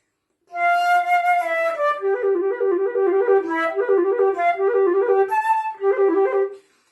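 A solo flute plays Popp's Study No. 6, alternating a high melody line with a quick, bouncing lower accompaniment so it sounds like two parts, close and continuous with no talking.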